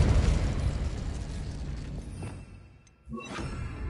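A Depulso spell cast in Hogwarts Legacy: a loud, dense burst that rumbles and fades over a few seconds, followed by a brief bright magical chime and shimmer.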